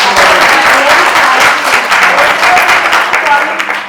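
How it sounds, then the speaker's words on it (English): Loud, dense applause fills a room at a Mother's Day celebration held by a mothers' milk bank, steady clapping from many hands close by throughout. "So big round of applause."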